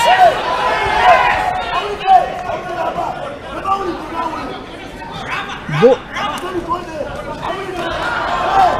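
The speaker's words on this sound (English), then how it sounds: "I like the crowd cheering" Spectators at a Super Fighter Series III boxing bout between Aman Bahadur and Ramanthan Mpagi create a lively, continuous roar of chatter and shouts, with rising bursts of cheering and chanting voices blending into a busy arena wash.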